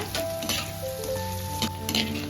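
Garlic and shallots sautéing in sesame oil for an eggplant curry, a steady close sizzle with crackling pops and stirring scrapes throughout, no voices.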